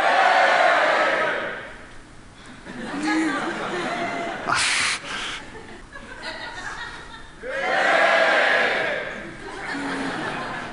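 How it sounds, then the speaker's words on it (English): Audience shouting at a TED talk, two loud bursts of crowd cheering separated by quieter murmuring and chuckling. "how about if everyone over there shouts?"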